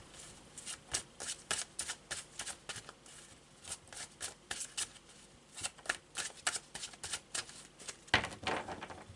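Tarot de Marseille cards are shuffled by hand, giving close, quiet papery riffles and flicks in an uneven rhythm that ends in a sharper burst.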